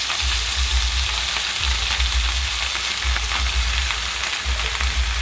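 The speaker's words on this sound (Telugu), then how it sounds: "చూడండి, ఇప్పుడు రైస్ వేస్తున్నాను." Rice tipped into hot oil tempering in a pan for pulihora, a loud, continuous close-up sizzle and crackle with a low rumble underneath, no talking.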